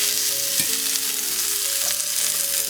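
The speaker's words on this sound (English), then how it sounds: "You want to kind of shake the pan, move them around, get them kind of blistered." Grapes fry and blister in a hot pan that is being shaken, a dense close sizzle with rattling and scraping from the moving fruit, and no voices.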